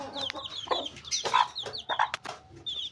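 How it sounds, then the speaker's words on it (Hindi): Aseel chicken chicks cluck and peep close by, a busy run of short, high chirps and soft clucks overlapping in uneven bursts, with no talk among them. "माशाल्लाह से ये असील के चूज़े हैं जो कि आप देख सकते हैं।"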